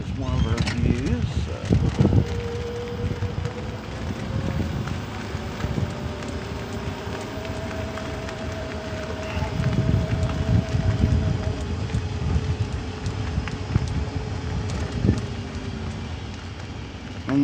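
Wind blows across a lakeside campground on a hot day, making a constant low rumbling buffet against the microphone with a faint engine hum beneath it.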